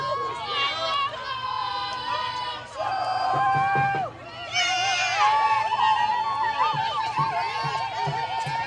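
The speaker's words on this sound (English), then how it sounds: "Now the Northwest dugout making some noise." Softball players in a Northwest Whitfield dugout cheer, shout and whoop during a late-inning game against Cedartown, a loud, continuous mass of voices with rising yells and chanting throughout.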